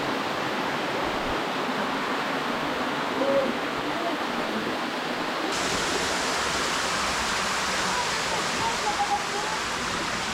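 Waterfall on a short, busy tourist hike in Eastern Europe, a loud, constant broadband rush that fills the whole stretch without pause and shifts slightly partway through.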